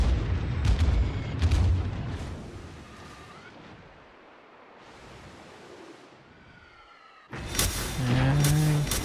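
Naval artillery in World of Warships: heavy booming salvos roll out at the start, fade into a quieter stretch, then another loud burst of cannon fire and impacts erupts near the end.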